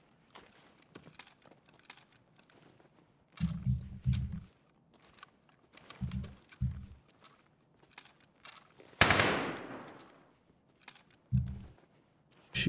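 Scattered gunfire in the shooter game Escape From Tarkov: a few short, low, thumping shots in separate clusters plus one loud sharp crack near the middle, spread over otherwise quiet ambience with faint clicks.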